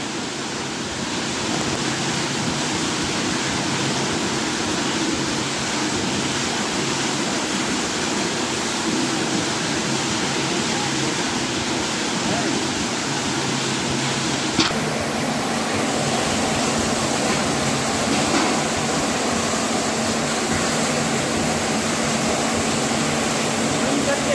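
Cold water pours straight from a canal into a farm field, a steady, close, rushing flow that continues without a break while someone talks over it.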